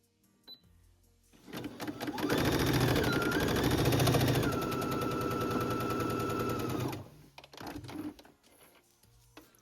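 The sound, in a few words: sewing machine sewing a straight stitch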